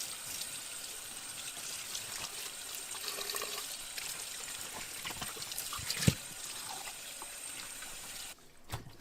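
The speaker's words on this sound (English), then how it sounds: "rinse it with some cold water." Cold water runs over a turkey as it is rinsed, making a soft, steady trickle and splash with a few small knocks and a sharper clunk near the end.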